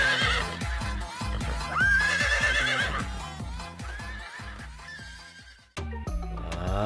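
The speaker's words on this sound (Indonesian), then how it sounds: "Wah, ternyata ada kuda" A horse neighs and whinnies repeatedly, close and clear, the calls rising and falling over several seconds with a brief break near the end.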